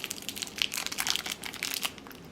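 A plastic package from a miniature diner kit is cut open, producing close, crinkly crackling and rustling for a couple of seconds.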